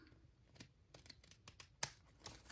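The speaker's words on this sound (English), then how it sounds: "we're going to take our scissors and just" Several quiet scissor snips cut paper at irregular intervals, close by, with one sharper crisp snip near the end.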